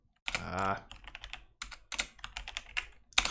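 Quick, uneven clicking on a computer keyboard at a day trader's desk, close up, following a brief vocal sound, with bursts of keystrokes and short gaps.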